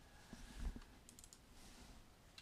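Grades being entered on a computer keyboard, a few faint scattered key clicks and taps in a quiet room, with no talking.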